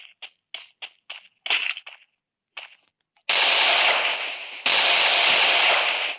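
Gunfire in the shooter game Free Fire: a string of sharp single shots, then two long, loud bursts of continuous rapid automatic fire, close and with no talk over it.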